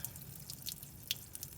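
Water draining from an RV tank drain valve under the bed, faint irregular dripping and trickling with a few sharper drops, quiet and close, no talking.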